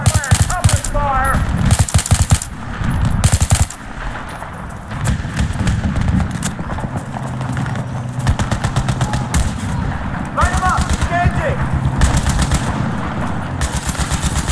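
Battlefield 3 firefight with loud, close bursts of rapid machine-gun fire and scattered single shots, repeating throughout under shouted voices.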